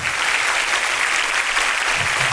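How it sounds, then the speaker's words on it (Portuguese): A church congregation applauds Jesus at a worship service, steady dense clapping filling the room from start to finish without pause. "Vamos aplaudir a Jesus, que ele merece"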